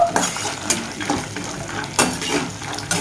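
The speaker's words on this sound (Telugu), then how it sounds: "ఫస్ట్ అయితే చట్నీ కోసం అయితే పల్లీలు పచ్చిమిర్చి అయితే ఫ్రై చేస్తున్నాను" Peanuts and green chillies fry in a pan for chutney, with steady frying noise broken by several sharp scrapes and clinks of a utensil stirring against the pan.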